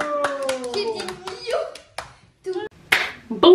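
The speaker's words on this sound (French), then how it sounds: "On applaudit." Hands clap in a quick, uneven burst at a family birthday celebration, close to the microphone, mixed with a sung tune and children's voices. The clapping thins into scattered claps among the voices.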